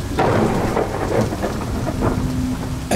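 Heavy rain pours steadily as thunder rumbles low and close, a stormy night backdrop for a horror story, with a sharper burst of rain or thunder right at the end and no voices.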